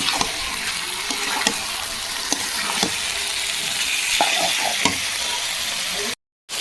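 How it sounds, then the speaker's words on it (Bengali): Meat being sautéed and stirred in a pan, a steady close sizzle with scattered clinks and scrapes of a spatula against the pan, then a brief cut to silence near the end. "এই যে দেখো কষাচ্ছি"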